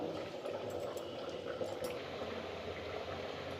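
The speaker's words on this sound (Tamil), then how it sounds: "தண்ணி சூடாகிடுது" Water heats in a cooking pot, salted and ready for boiling soya chunks, giving a steady, soft simmering hiss and bubbling throughout, with no talking.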